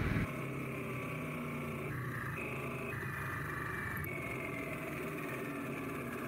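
A Harley-Davidson Sportster S motorcycle with a Revolution Max engine runs at a steady pace, giving a continuous, even engine drone that stays close and fairly loud throughout.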